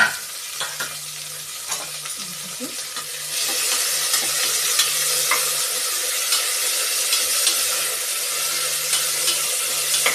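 Onion, tomato and curry leaves sautéing in a pan, a continuous close sizzle that swells partway through, with occasional stirring clinks and scrapes and no talking.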